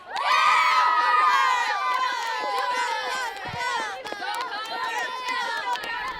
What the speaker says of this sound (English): We'd like to thank those varsity cheerleaders out there for that little cheer